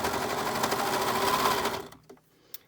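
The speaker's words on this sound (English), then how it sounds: "we're going to go over to the serger and we'll serge that up real quick" Serger overlocking fabric edges on a baby kimono, a loud continuous motor whir for nearly two seconds that stops abruptly, followed by a faint click.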